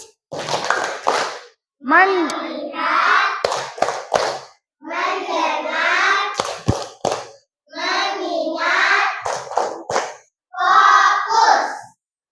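Children in a classroom perform the tepuk fokus clapping routine, chanting together in bursts between sharp claps, each group clap followed by a short pause, loud and close.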